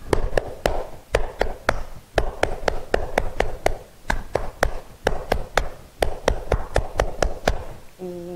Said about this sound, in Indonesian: Yuk kita sama-sama tepuk pramuka. 2 kali tepuk pramuka.